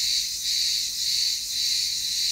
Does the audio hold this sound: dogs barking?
no